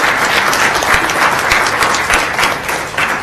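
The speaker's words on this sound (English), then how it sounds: "we'll give you a round of applause too" Audience applause at a board of education meeting honoring a seventh grader, loud dense clapping from a crowd in a hall, sustained throughout with no speech.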